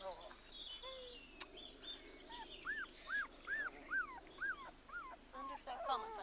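A Labrador puppy whimpers and moans in a run of high, rising-and-falling cries, about eight in a row, quiet and close. Soft voices sound in the background.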